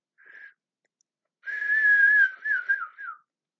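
A person whistles a short note, pauses, then a longer wavering whistled phrase with a few dips, close and clear against silence.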